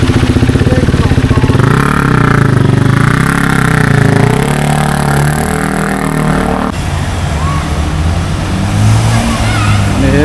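A motorcycle engine drones loud and steady as it rides through a flooded college road, with water churning around it and a shift in tone partway through.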